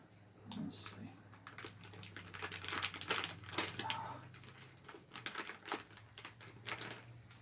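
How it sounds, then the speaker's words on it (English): Paper towels crinkle and rustle up close in a run of soft, irregular crackles, laid down beside a resin 3D printer, quiet throughout with a low hum underneath. "Take some paper towels and put them down."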